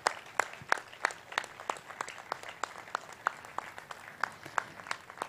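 Applause honoring performers at an Indian classical music festival comes as distinct, sharp, rhythmic claps, about three per second, over a soft bed of crowd noise, fairly close and moderately loud.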